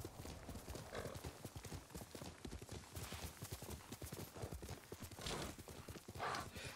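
Horse hooves in the video game Ghost of Tsushima, a rapid, regular clip-clop of galloping close by, steady throughout with a brief whinny-like tone.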